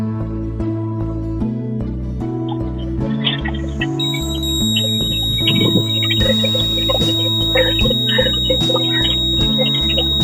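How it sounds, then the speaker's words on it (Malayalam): A homemade water tank level alarm buzzer goes off as the tank nears full, a shrill steady electronic tone that starts partway through and keeps sounding over louder rhythmic music in the background. "നമ്മുടെ അലാറം അടിക്കുന്നുണ്ട്"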